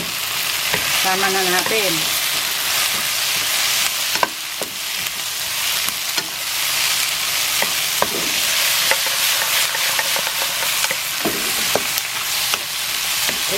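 Pork for sweet and sour pork fries in a hot pan, a loud, dense, continuous sizzle and crackle with occasional stirring scrapes, and a brief spoken phrase early on.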